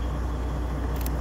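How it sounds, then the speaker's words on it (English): A Freightliner Cascadia truck idles with a steady, low diesel rumble, close and continuous and unbroken for the whole stretch, with a short faint hiss near the end. "So here I have the truck turned on."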